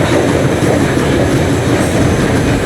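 A train rolls along a railroad in the video game Metro Exodus, a loud, steady rumble of wheels and carriages with faint clatter that fills the whole stretch without any voices.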